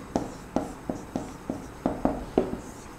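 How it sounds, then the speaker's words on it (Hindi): Pen or marker strokes writing a note on a board during a ratio and proportions lecture, about eight short scratchy taps in a steady rhythm, close and fairly quiet, with no talking. "तो अब यही नोट यहाँ पे लिखेंगे"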